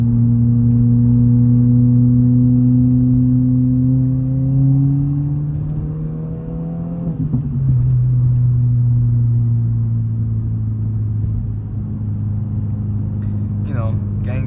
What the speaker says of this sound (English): I hope you guys can hear the pops on this car